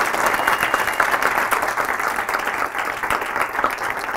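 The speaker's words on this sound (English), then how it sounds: "Let's just have an applause for Ashley over here" A room full of people gives sustained, dense applause for a participant at a public narrative training session, the clapping fairly close and loud throughout.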